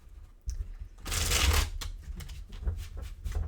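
Tarot deck from the Echoes of Atlantis set being shuffled by hand, a dense riffling burst about a second long followed by lighter card flicks and taps, close and alone with no talking.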